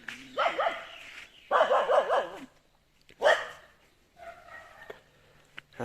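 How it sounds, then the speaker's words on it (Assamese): A village dog barks in a few loud bursts during a rural morning, with short gaps and a quieter trailing yelp or whine near the end, heard close and alone. "এইটো আমাৰ কুকুৰটো ভুকি ভুকি আহি আছে।"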